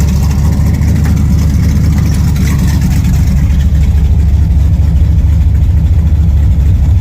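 A loud, deep Oldsmobile 350 V8 engine idles steadily at about 1,000 rpm and close by, with a low rumbling throb that holds even throughout.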